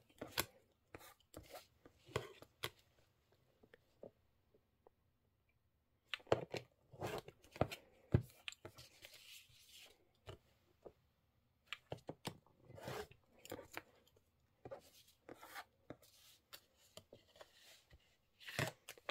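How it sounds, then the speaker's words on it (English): Scissors snip around the stitched edges of an embroidered felt keychain, a run of short, close crisp cuts in irregular bursts with brief quiet pauses between. "Let's do the rest with our scissors."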